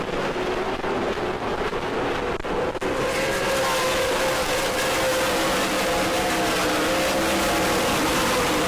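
Super Late Model race cars battle side by side at New Smyrna: a loud, unbroken engine roar that swells briefly as the pack passes, then settles into a steady, dense drone.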